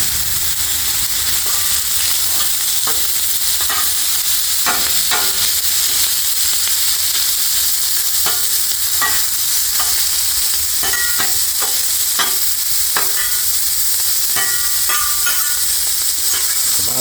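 Cabbage and kielbasa frying in butter and oil on a flat-top griddle, a steady close sizzle broken by frequent scraping and stirring clicks from a spatula, with no one talking.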